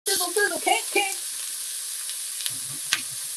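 Ground beef, about 90% lean, hitting a hot pan with a steady close sizzle that carries from start to finish, with a few soft stirring clatters near the start.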